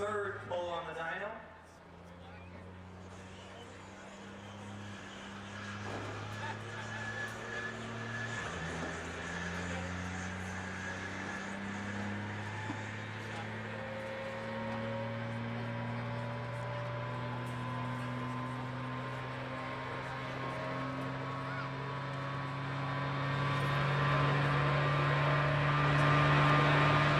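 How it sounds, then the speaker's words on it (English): Turbocharged drag car engine spooling up on a dyno at a callout racing event, a loud steady drone with rising harmonic tones that builds and swells toward the end, with people talking faintly underneath. "spooling up for his third pull on the dyno."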